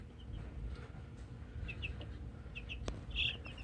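Chickens give a few short, faint clucks and chirps against a low, steady background rumble, closer and sharper near the end.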